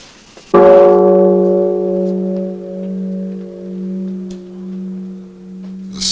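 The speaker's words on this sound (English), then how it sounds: "Sound of the bell, the voice of Buddha." A single strike of a large Japanese Buddhist temple bell, cast by a master bellmaker, booms out loud and close, then rings on with a long, steady, slowly pulsing hum that fills the whole stretch, with no voices.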